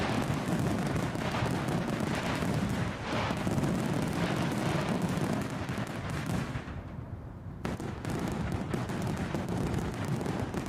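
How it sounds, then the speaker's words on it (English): Fireworks exploding during a plane-spotting session at London Heathrow, a continuous roar of booming bursts that briefly thins before resuming. "Fireworks!"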